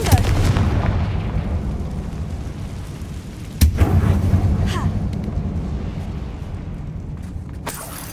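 Fire spell blasts in Hogwarts Legacy inside an abandoned mine, heard as a steady rumbling roar with a sharp booming impact partway through and a further burst near the end.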